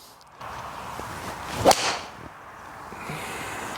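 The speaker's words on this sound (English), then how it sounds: "we'll hit another shot of the utility iron" A single sharp swishing crack from a golf club striking a ball, mid-distance, followed by a faint whoosh over steady outdoor background noise.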